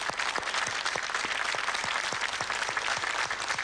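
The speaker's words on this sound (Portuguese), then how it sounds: "Uma salva de palmas a Eusébio da Silva Ferreira" Continuous, fairly even applause fills a TV studio as the audience honours the late footballer Eusébio during a televised show final, the claps steady and crowded throughout with no voices on top.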